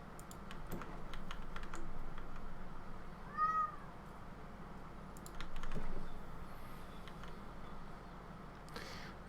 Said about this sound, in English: the reason why my cat is so noisy